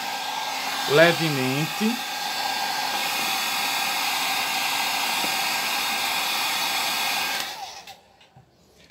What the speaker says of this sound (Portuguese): Usa um secador para secar ele